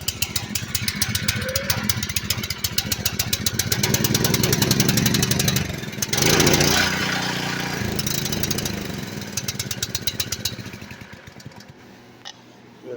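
Small engine, freshly fueled with new gas and with a cleaned carburetor, runs on its own power at a steady rapid putter, loud and close throughout, with a brief surge midway before settling and fading slightly at the end.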